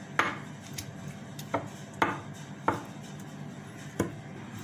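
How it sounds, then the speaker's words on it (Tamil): A piece of lemon and mint leaves being mashed in a bowl for a mojito, with a muddler thudding in about six dull, evenly spaced knocks, close and alone. "நெக்ஸ்ட்டு ஒன் பீஸ் லெமன், புதினா, இதையும் நல்லா மேஷ் பண்ணிக்கலாம்."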